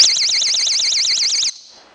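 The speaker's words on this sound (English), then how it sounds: "When these two parts separate, it's like a magnet, that's when the alarm goes off." A homemade magnetic car trunk alarm shrills loud and close in a fast warbling, siren-like tone for about a second and a half, then cuts off abruptly into quiet.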